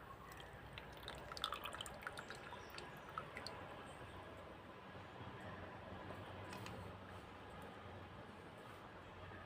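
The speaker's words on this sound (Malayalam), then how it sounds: "ഈ ഒരു രീതിയിൽ അരച്ചെടുത്ത് ഇത് നമുക്കിനി ചിരട്ടയിലോട്ടൊന്ന് ഒഴിച്ചു കൊടുക്കാവേ." A thick ground herbal hair-pack paste is poured into a coconut shell, making faint soft drips and wet squishing sounds against a quiet room background.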